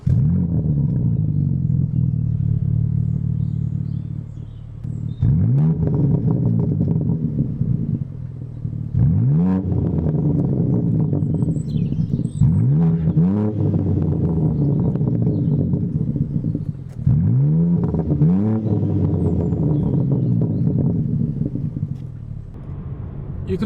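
A BMW M4 Competition xDrive (G82) engine idles with a deep rumble, then is blipped repeatedly, each rev surging and dropping back in a series of loud bursts.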